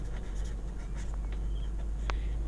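Pen or chalk strokes from writing during a class 10 math lesson, brief faint scratches over a steady low hum in the room.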